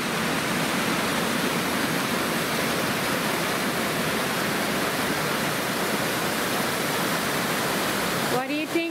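Steady, dense rush of an Alaskan waterfall near a mine entrance fills the whole clip at an even loudness, with a voice briefly emerging at the very end.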